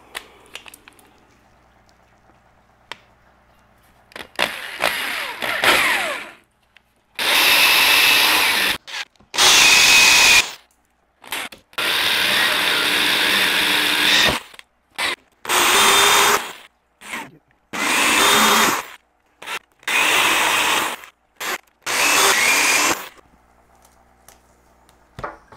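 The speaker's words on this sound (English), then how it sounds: "So I'm gonna go ahead and just drill the rest of these out." A power drill bores holes through plastic for a Kratky herb garden, about eight loud, close bursts of whirring drilling separated by short pauses.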